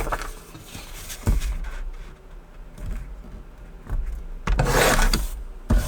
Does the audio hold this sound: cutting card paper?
yes